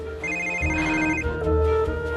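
A mobile phone left behind in a Hallmark movie scene rings with a loud, steady melodic ringtone that continues throughout, with no talking.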